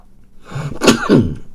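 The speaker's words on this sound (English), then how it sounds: "A bit of a sneeze there." A single close, sharp sneeze from a radio presenter in a studio, a short breathy intake followed by an abrupt loud burst, alone with no talk.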